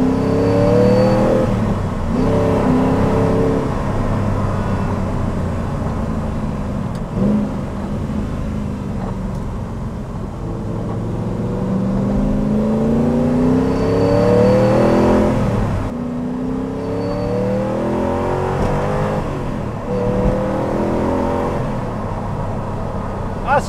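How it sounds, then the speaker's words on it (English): Audi V8 in a Spyker C8 supercar revs and pulls hard from onboard, with loud rising and falling engine sweeps repeating through the clip and a voice talking now and then. "It's a proper responsive motor, actually."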